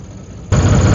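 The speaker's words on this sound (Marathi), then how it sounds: "आता आहे ना आपल्याला नॉर्मल मागे घ्यावं लागेल ट्रॅक्टर" A loud, rumbling diesel tractor engine suddenly kicks in halfway through while reversing, churning steadily up close after a quieter low hum.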